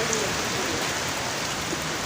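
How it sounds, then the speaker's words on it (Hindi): Steady rain pours down outside an Afghan Shinwari tikka restaurant on a city road where cars are parked. The hiss is dense, even and unbroken throughout. "बारिश लग गई है"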